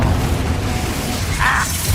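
A Confringo spell explodes in Hogwarts Legacy: one short, sharp burst partway through, set over a low, steady game background.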